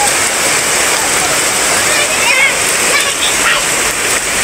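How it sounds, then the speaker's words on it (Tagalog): Steady rain falls outdoors in Bicol, a dense, continuous hiss of drops and splashing water that stays even and fairly loud throughout, with no clear talk over it. "Ayan, maulan ka muna, ulan, ulan, ulan"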